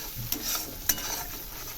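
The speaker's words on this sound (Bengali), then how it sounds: "এবার গরম জল ঢেলে দিলাম" Hot water poured into a sizzling spice masala for Bengali-style katla fish, a brief bright hiss and splash with two sharp flare-ups over a steady frying crackle, close and fairly quiet.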